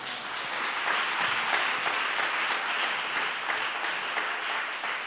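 A church congregation at a thanksgiving service claps loudly and steadily, a dense crowd of hands that holds at an even level for the whole five seconds with no voices on top.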